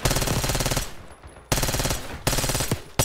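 Loud, close automatic gunfire from the Call of Duty Black Ops 6 campaign: three long rattling bursts with brief pauses between them and no talking.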